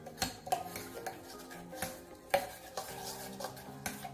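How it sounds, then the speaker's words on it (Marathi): A spoon mixes a thick sweet, sour and spicy chutney in a bowl, giving quick scraping clinks and taps against the dish in an irregular rhythm, close but fairly quiet. "हे सर्व आता मिक्स करायचं"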